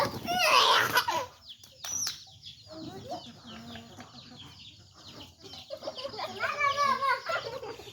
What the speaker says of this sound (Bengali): আমার ছেলেও ধরে ফেলছে মুরগি।